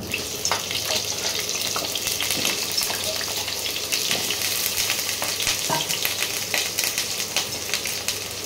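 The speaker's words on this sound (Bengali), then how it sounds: "এই তেলের মধ্যেই আলু ভেজে নেব।" Potatoes fry in oil, seasoned with salt and turmeric, in a continuous dense crackling sizzle with scattered pops and faint stirring, close and steady with no voices.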